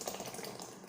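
Chicken stock poured in a small amount into a moi moi bean mixture, giving a brief close splashing trickle that lasts under a second.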